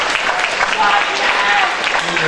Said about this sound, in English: Please give one final round of applause for all the seniors running this year.